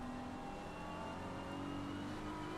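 BMW race car in Assetto Corsa Competizione at Monza, engine revving hard and climbing in pitch as it accelerates away, a steady smooth whine rising over faint background noise.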